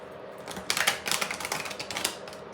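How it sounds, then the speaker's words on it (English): A deck of tarot cards is shuffled by hand in a quick burst of crisp, rapid fluttering clicks lasting about two seconds, close by and alone. "I'm just shuffling them one more time."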